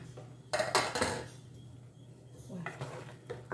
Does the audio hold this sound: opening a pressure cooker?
yes